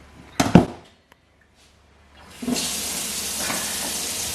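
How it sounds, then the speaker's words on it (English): Brief clatter and handling noise, a short quiet pause, then a cold water tap gushes steadily over raw meat and fish in a restaurant kitchen sink, loud and continuous to the end. "We're gonna run this under the cold tap"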